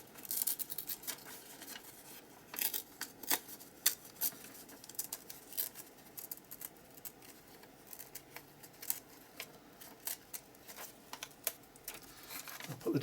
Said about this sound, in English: So I'm going to tear that word out from the dictionary sheet.